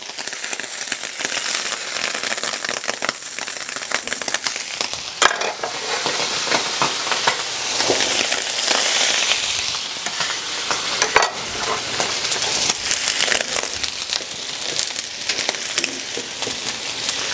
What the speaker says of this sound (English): we're gonna go ahead and start sizzling our onions. Get a couple knobs of butter in there.